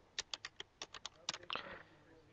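Computer keyboard typing at a desk, about a dozen quick, crisp keystrokes in a short burst, close and fairly quiet.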